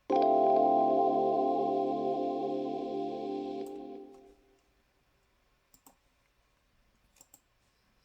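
A lush chord from Native Instruments Prospect Haze, the Angel Dust patch, rings out loud with a soft chorused shimmer and slowly fades over about four seconds, followed by near silence with a few faint clicks.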